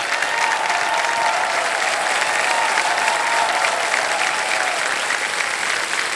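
Studio audience on the Hindi quiz show Kaun Banega Crorepati applauding a contestant, loud, dense sustained clapping filling the room evenly throughout.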